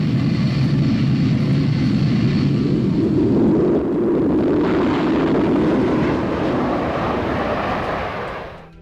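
Twin Rolls-Royce Turbomeca Adour engines of a SEPECAT Jaguar in reheat on a takeoff roll down a runway, giving a loud, steady, broadband roar that shifts slightly midway and then fades away at the end.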